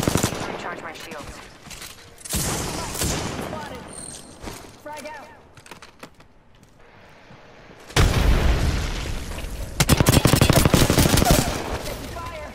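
Rapid bursts of automatic weapon fire and booming shots from a sci-fi shooter video game, loud and repeated across the clip, with a louder sustained barrage near the end and game voice callouts mixed in.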